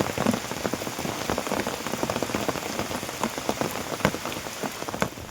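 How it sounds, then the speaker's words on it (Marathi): Heavy rain pours steadily, a dense broadband hiss with scattered louder drops spattering close by, continuous throughout with no voices. "इकडे बाबा पाऊस किती जबरदस्त आलाय"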